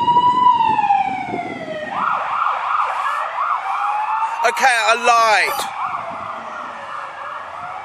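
A loud ambulance siren wails and yelps, its rising and falling tones cycling steadily, with a brief burst of rapid yelping partway through and a voice speaking over it.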